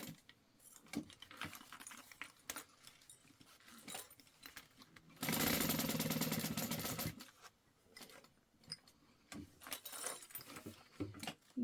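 A sewing machine runs in one steady burst lasting about two seconds while basting fabric pieces of a sling's gusset together. Quieter handling clicks and rustles come before and after the burst.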